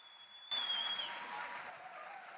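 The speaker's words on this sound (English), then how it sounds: "Can we give them a big round of applause?" Audience applause breaks out suddenly at an evening event in Jordan, a moderate wash of clapping that follows a fading tone and continues steadily.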